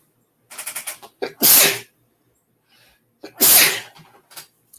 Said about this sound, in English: Hang on, I'm going to sneeze again.